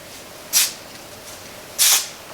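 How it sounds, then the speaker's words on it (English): Two short hissing bursts of hairspray misted onto thin hair, each about a quarter second long and separated by a brief pause, close and fairly loud against a quiet room. "sometimes what I'll do is I'll spray it again"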